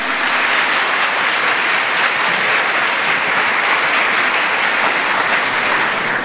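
A congregation at a state church congress applauds, a loud, unbroken wash of many hands clapping that fills the room evenly from start to finish, with no voices standing out.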